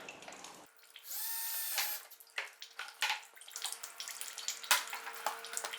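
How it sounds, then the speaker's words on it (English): A drill boring holes in a bucket lid used for maple and black walnut syrup making, with a couple of short whirring bursts and scraping handling noises, close and alone. "I'm going to drill some holes in the lid so our tube can pass through"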